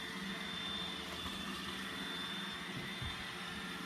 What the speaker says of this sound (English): Uh-oh, here comes the vacuum.